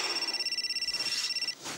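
A telephone rings with a rapid, warbling electronic trill repeating for over a second, loud and close, then cuts off into a brief rustle.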